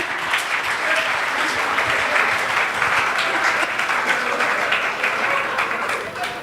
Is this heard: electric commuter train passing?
no